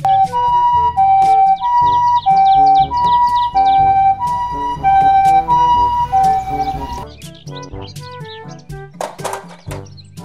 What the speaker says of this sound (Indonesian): Mobil